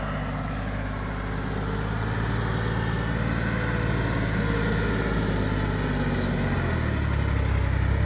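A tractor engine runs steadily in second gear, a constant low droning rumble close by, unbroken and even for the whole stretch without any talking.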